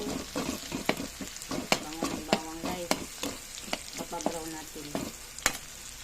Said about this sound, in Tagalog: Gigisa ko na dito guys ang aking bawang.